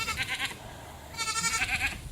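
Goats in a garden pen bleat twice in close succession, loud and near, each call a wavering nasal cry with a short pause between, no voices over them.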